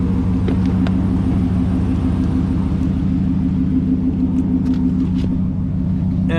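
A lifted Ram Rebel pickup on Rough Country suspension with Vertex coilovers drives along, its engine a steady, loud low rumble heard from close by without a break.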